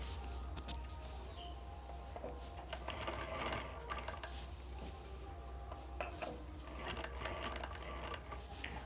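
A sewing machine stitches cloth around a torn patch while a tear is being mended, a faint, steady rapid whir with small clicks and ticks, close but quiet, with no talking.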